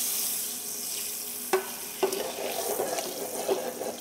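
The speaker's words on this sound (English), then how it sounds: "Fresh melted butter, that is, I'm going to add to the pan." Fresh melted butter is swirled in a hot pan while cooking honey-glazed carrots, giving a soft, steady sizzle close by, with a few light knocks as the pan moves.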